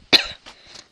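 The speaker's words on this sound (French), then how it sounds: "Pardon, je vous tousse à la figure." A person coughs: one sharp, loud cough followed by two softer, shorter coughs, close and with no talking.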